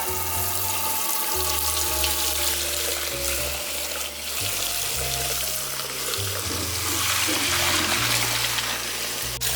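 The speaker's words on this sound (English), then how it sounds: "Rinse with cold water." Steady running cold tap water splashing into a sink, continuous and fairly loud, with faint clinks of a pot being rinsed.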